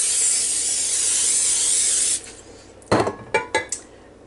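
Pam cooking spray hisses steadily for about two seconds as it coats a 9x13 baking dish, followed by a few sharp clinks of the dish in a home kitchen.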